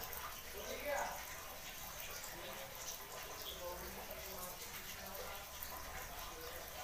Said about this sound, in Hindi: मिक्सर के जार को धो के हम और इसमें 1 कटोरी पानी डालेंगे